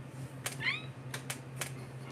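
A man imitates a cat, giving one short rising meow, with a few sharp clicks and taps around it and a low steady hum underneath.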